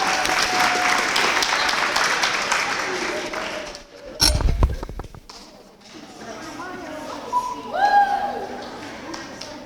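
A crowd claps through a school awards assembly, with dense broadband applause fading out and a brief loud thump midway, and voices talking as the clapping subsides.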